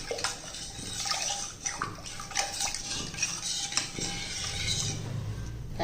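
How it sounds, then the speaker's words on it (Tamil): Ragi flour and salt are stirred in a metal pot with a spoon, giving close scraping clinks and watery swishes in an uneven rhythm. "அப்படியே ஃபுல்லாக நல்லா மிக்ஸ் பண்ணிடுவோம்."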